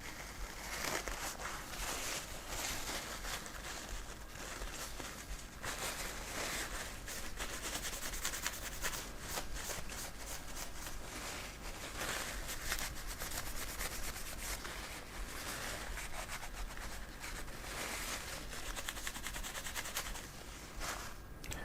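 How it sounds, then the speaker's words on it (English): Cloth rubbing steadily over a metal CPU plate and chip in an Acer Aspire A515-43 laptop with an AMD Ryzen 5 3500U, wiping off old thermal paste; a continuous close scrubbing hiss with no talk throughout. "just give this plate a good clean and also remove any of the excess paste on the CPU"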